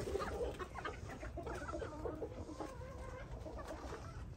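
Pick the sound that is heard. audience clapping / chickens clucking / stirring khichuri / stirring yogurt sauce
chickens clucking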